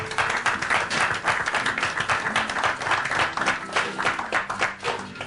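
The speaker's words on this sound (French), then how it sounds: "Est-ce qu'on peut applaudir très très fort pour elle?" An audience at a press conference in Washington breaks into sustained, dense applause, a steady wash of many hands clapping at even loudness throughout.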